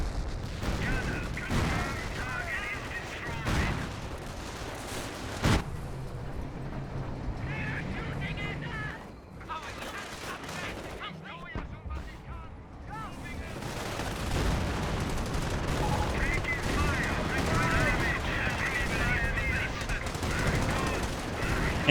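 Battle sounds from Company of Heroes: rapid gunfire, machine-gun bursts and artillery blasts crackle and boom in dense layers while a voice commentates over the combat.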